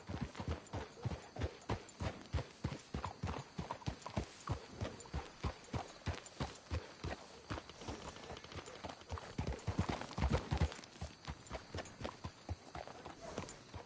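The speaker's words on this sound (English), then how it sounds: "Let's hitch the horses up ahead." Video game horse hooves clip-clopping in a steady, even rhythm on a hard surface, several animals walking close by.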